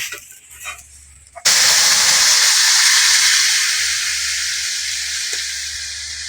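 Water hits a hot pan of fish and gram-flour kofta curry with a sudden loud, steady hissing sizzle that follows a quiet lead-in and slowly fades over several seconds.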